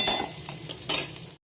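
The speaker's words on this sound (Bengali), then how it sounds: "পেঁয়াজ, জিরে ফোড়ন, কাঁচা লঙ্কা, টমেটো দিয়ে এটা মশলাটা কষিয়ে নেবো" Onion, cumin, green chilli and tomato masala sautéing in a pan for matar ghugni, with a short burst of close sizzling and two stirring scrapes.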